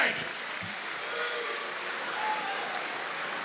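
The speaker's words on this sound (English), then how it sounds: "a big applause for these two warriors, Kevin Ward and Clyde Brunswijk" A fight-event crowd applauds the two fighters after the bout, a steady wash of clapping and cheering at moderate distance, with some voices mixed in.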